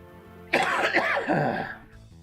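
A single rough, throaty cough fit lasting about a second, close and fairly loud, trailing off into quiet.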